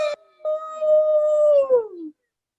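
A single long howl, close and loud, rises in and holds a steady pitch, then slides downward at the end; it appears to be a person imitating a wolf howling in the night, not a real animal.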